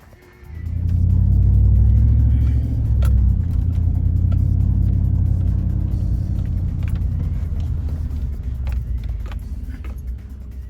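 A car rolls along a road through the East Texas countryside, its engine a steady, close low rumble that swells early on and then holds evenly throughout, with no talking.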